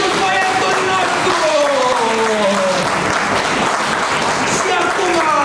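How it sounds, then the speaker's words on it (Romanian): Applause at a comedy show, steady dense clapping throughout, with voices talking and calling out over it. "Aplauze, vă rog, pentru băiatul nostru!"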